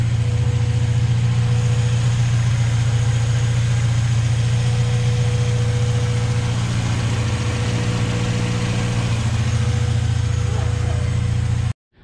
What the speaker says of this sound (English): A nice idle.